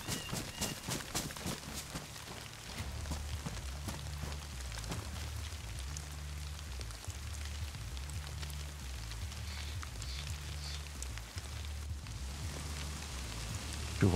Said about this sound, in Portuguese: chuva aumentou